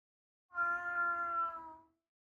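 A cat meows once, close and clear, in a single drawn-out cry of about a second and a half with a bright harmonic tone that tails off at the end. No other sound is present.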